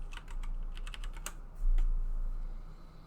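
Keys clatter on a computer keyboard in a quick run of light taps, followed by a few slower strokes, close and fairly quiet over a steady low hum.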